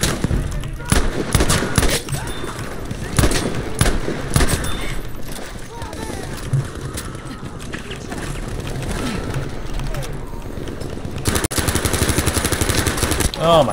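Rapid bursts of gunfire and mechanical weapon clatter fill a Battlefield V match, loud and close, with repeated volleys over a constant background of game noise.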